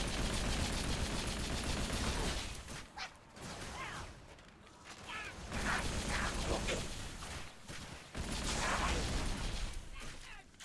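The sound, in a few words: dual-wielded guns firing in the video game Halo 3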